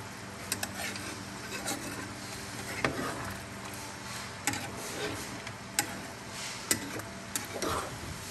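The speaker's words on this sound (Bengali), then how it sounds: "একটু হাতা দিয়ে নাড়বো।" A ladle stirs Bengali mutton curry (kosha mangsho) with whole potatoes in a pot, making a soft sizzle under repeated scraping and sharp metallic clinks against the pot at an uneven rhythm.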